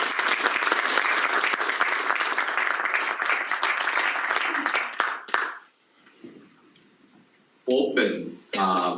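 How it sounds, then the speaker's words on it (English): A large audience bursts into loud, dense applause for about five seconds. The clapping then stops abruptly and a speaker's voice follows. "Let's give them a round of applause."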